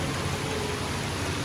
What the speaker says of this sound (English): It has been raining cat and dog since the morning.